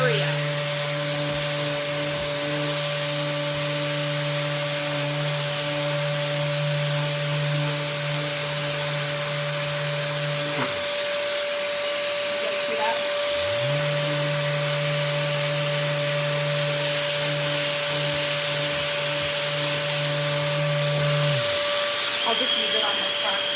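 An electric sander fitted with a scuff pad, working over the top of a wooden yard-sale table to prep it for paint, hums steadily up close, cuts out briefly twice and restarts, with a faint voice in the background.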